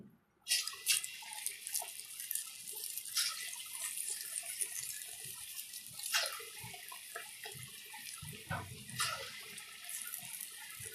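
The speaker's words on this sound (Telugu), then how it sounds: "నూనె మంచిగా వేడైంది. ఇవి చిన్న చిన్న పునుగులు వేసుకోవాలి." Small green gram dumplings dropped into hot oil for an Andhra-style dish, giving a steady crackling sizzle with a few louder bursts of spitting, close and continuous with no talking.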